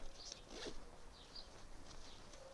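Two zippers on a COVERT-18 get-home backpack are pulled open indoors in short, scratchy zips, close and fairly quiet, with no talking over them.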